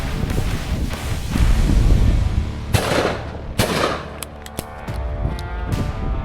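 Two sharp shotgun cracks ring out a second apart during a hunt for hares, pheasants, woodcock and ducks, over heavy wind buffeting the microphone, followed by a few fainter clicks.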